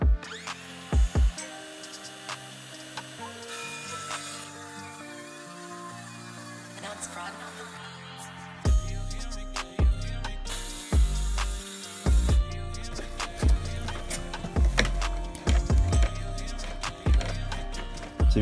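A power tool driving screws during a camper van build: a whirring motor runs in stepped bursts, then sharp knocks and clatter of fastening follow, with people talking in the background.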